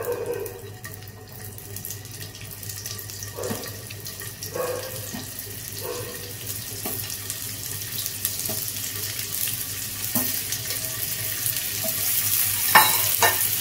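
Stuffed kakrol, spiny gourd filled with potato, frying in a little oil in a pan, giving a steady soft sizzle with occasional clinks and scrapes of handling throughout.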